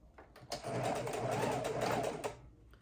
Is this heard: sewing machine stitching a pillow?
yes